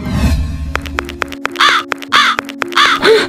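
Several crows cawing harshly while attacking a person, with repeated loud rhythmic caws close by and bursts of other calls between them.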